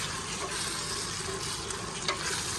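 Mint is stirred into biryani masala frying in a pan, a dense, continuous sizzle with soft scraping from the stirring, steady and close throughout.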